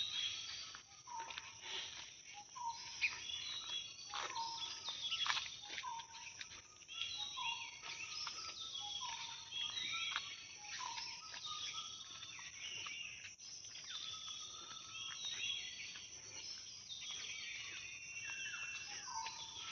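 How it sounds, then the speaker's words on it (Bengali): Many kinds of birds call in Bahadurpur forest near Shantipur during the rainy season. Faint, distant chirps and repeated short whistles overlap with steady insect trilling in the background. "কত রকম পাখি প্যাপে করছে"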